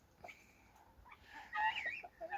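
A broody reddish-golden hen clucks in a backyard coop, a few soft close calls rising into a louder squawking cluck near the end, quiet and alone.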